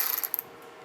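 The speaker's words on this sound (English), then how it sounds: "take a 19mm socket," A 19mm socket on a ratchet loosening bolts on a disc or barrel brush station, giving quick ratcheting clicks that fade after the first half second.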